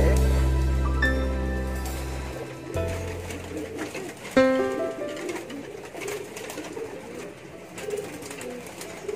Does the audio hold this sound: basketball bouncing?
no